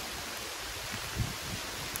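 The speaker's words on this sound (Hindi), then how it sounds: "बारिश देखो," Rain falls outdoors in a steady broadband hiss, close and constant, with a faint soft knock near the middle and no voices.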